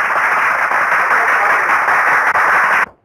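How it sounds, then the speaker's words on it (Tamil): A crowd clapping in a courtroom scene of a Tamil movie, loud dense applause held steady for about three seconds before cutting off sharply. "கைத்தட்டுறதுக்காகவே கும்பலை கூட கூட்டி தந்திருக்கீங்களா?"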